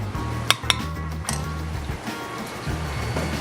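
Pans clink and clatter as cooked squash is moved into a mixer pan in a restaurant kitchen, with two sharp metallic knocks early on, then softer scraping and handling over a low background hum.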